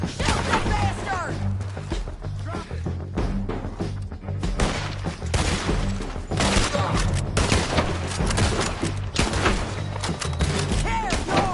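Sustained gunfire fills a Red Dead Redemption 2 story-mode battle, with rapid overlapping shots and thuds in a loud, dense barrage, while shouted voices break through the din.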